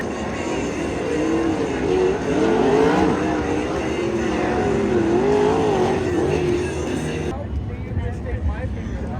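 A pack of nine 360 sprint cars roars off the line to start an eight-lap heat race at Kings Speedway, engines swelling and wavering loudly for several seconds before cutting away abruptly.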